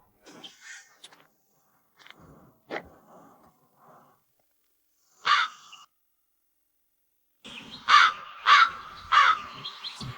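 A crow caws from outdoors with a few scattered calls early on, then a closer burst of three loud, harsh caws in quick succession near the end, separated by quiet gaps.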